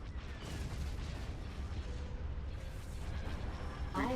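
Warship weapons fire continuously in the space strategy game Empire at War, a dense rumbling barrage of booms and blasts with a brief higher whine near the end.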